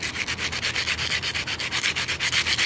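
Coarse 60-grit sandpaper rubs briskly back and forth over a palm tree stepping stone, a loud, close, rhythmic rasping with about eight strokes per second and no talk.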